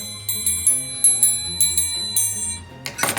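A small metal triangle struck repeatedly in a steady rhythm, bright ringing tones with sustained shimmer, ending in a sharper rattling burst, all alone without talk.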